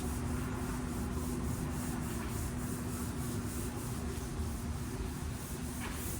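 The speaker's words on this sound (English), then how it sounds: "Turn your hand at a slight angle and sand in a straight line. This is 600 grit, so I'm going to sand it a lot." Car bodywork is sanded by hand with 600 grit sandpaper in straight strokes, making a steady, continuous close-up rubbing hiss that holds at an even level throughout.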